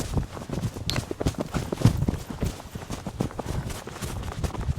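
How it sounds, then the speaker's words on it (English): A mustang canters nearby, its hooves thudding in a quick, uneven rhythm of repeated beats at moderate loudness, with faint background noise. "So now we're going to do the same thing, but at a canter."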